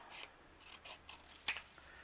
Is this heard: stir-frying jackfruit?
no